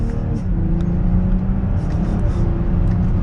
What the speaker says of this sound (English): Mild acceleration, just getting up to speed.